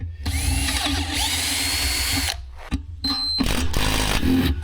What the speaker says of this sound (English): Maybe I'll try the next size up drill bit.